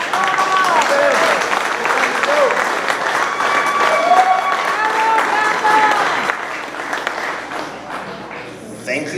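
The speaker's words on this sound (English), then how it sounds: "for clapping before you even hear me speak" Audience clapping at a networking event in a market hall, a steady loud round of applause with cheers and whoops mixed in, tapering off near the end.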